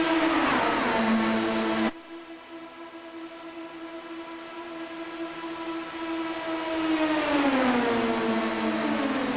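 A sim racing game's race car engine screams at Indianapolis: a sustained, high-pitched, whining engine tone cuts sharply at a gear change, then climbs and bends again through corners, loud and alone with no voices.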